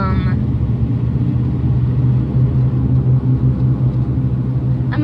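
Steady low road rumble and engine drone from inside a moving truck cruising at about 25 miles per hour, continuous throughout with a brief voice at the start.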